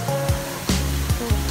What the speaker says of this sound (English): There's a waterfall right there, so I have to kind of talk loud.